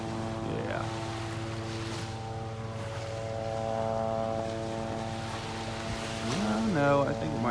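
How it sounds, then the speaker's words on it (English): A spray helicopter flies high over the beach in North Naples, Florida, giving a steady, droning engine and rotor hum that carries throughout at moderate distance, with faint shifting tones rising near the end. "Sounds like one of the spray helicopters. It's coming down the beach."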